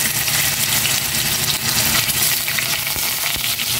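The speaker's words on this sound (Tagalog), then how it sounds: "Lalagay ko na itong tokwa at uminit na itong mantika." Tofu frying in hot oil, a loud continuous hiss and sizzle with crackling pops, close and steady throughout with no voices.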